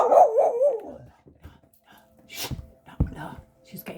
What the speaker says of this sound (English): Otherwise she's not going to stop barking.